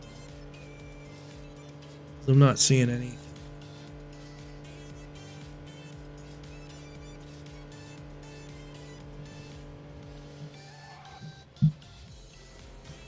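A car driven in the video game Wuthering Waves, with a steady engine drone under brief talk, a loud burst of revving or impact around the third second and a short sharp knock near the end.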